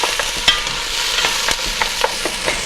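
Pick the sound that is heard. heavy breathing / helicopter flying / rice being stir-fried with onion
rice being stir-fried with onion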